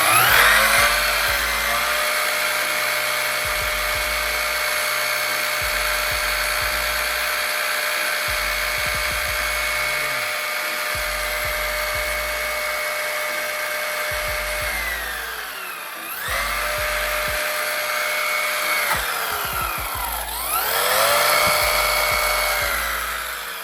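The electric motor of an ARRMA Big Rock RC truck, fitted with a faulty ESC, held at full throttle, giving a loud sustained high-pitched whine that dips and surges back up twice near the end.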